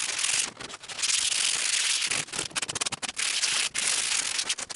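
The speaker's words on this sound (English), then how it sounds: "First, scuff the surface. So, we've got a 40 grit here." Coarse 40 grit sandpaper scuffs a carbon fibre surface, a steady loud rasping rub with short breaks between strokes, heard close up with no talk.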